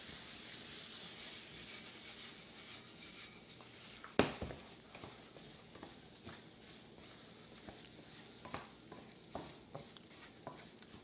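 Risotto rice frying in olive oil in a pan, a soft steady sizzle with a sharp clatter as the grains land, followed by repeated light scraping of stirring, close by.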